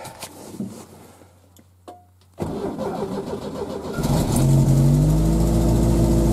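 An old car's engine cranks, then catches and fires into a loud, steady rumbling idle that grows stronger, heard up close outdoors with a few clunks before the start.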